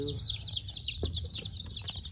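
Young chicks, including a Houdan and Welsh Harlequin ducklings, huddle under a heat lamp, giving close, high, rapid peeping chirps in overlapping bursts with a soft low background hum.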